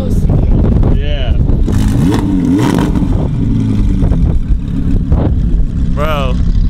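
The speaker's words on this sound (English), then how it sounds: "you press the gas a little bit and it'll rev" A supercar engine revved while sitting in park, loud throaty blips rising and falling in pitch over a constant rumble, with excited voices talking over it.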